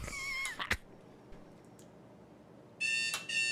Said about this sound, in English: That's my alarm to remind me.